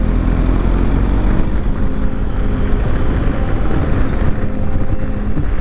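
A 2020 BMW R 1250 GS Rally motorcycle rides in dynamic mode along a Spanish mountain road, its engine a loud, continuous low drone buried under heavy, steady wind buffeting.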